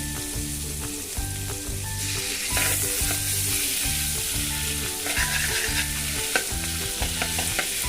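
Ginger garlic paste sizzles loudly in melted butter in a kadai while a spoon stirs it in a steady repeating rhythm. The frying hiss stays close and constant throughout, and no one speaks.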